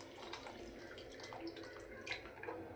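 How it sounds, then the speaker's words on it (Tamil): Water runs steadily with a light splashing, trickling texture, close by and fairly quiet, with no voices. "ஸோ கொஞ்சம் தண்ணி சேர்த்துக்கலாம்."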